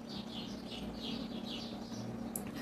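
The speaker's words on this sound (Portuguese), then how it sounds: "Nossa, hoje os passarinhos estão que estão." Small birds chirp and tweet outdoors in a steady run of brief high calls over a constant low background hum, with no talking.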